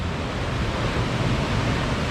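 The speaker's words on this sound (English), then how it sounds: "This is probably one of the tallest waterfalls I think I have ever seen up close." Roar of a tall waterfall heard up close, a dense, steady broadband rush with wind buffeting, loud and unbroken, no voices.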